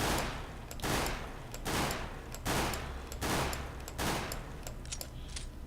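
Burst-fire gunshots from Counter-Strike: Global Offensive crack out in about six evenly spaced clusters, each a sharp broadband blast, loud and close with no voices over them.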